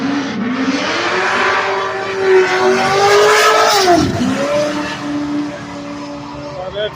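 Drag race at Bradenton Motorsports Park between a Corvette and a white 2001 fourth-generation Camaro SS: loud, steady engine roar with harmonic pitch rising, a dip and shift near the middle, then continued high-revving acceleration throughout.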